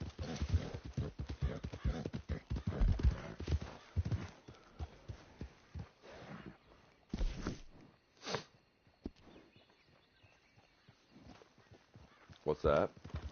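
Hooves clip-clop at a steady walking pace close by, with people talking over much of it and a brief snort or whinny near the end.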